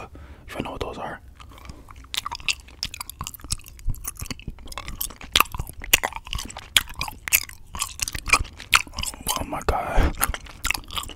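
Hi-Chew candy chewed up close with wet, sticky smacks and soft crunchy bites in an irregular rhythm, interrupted by brief quiet talking.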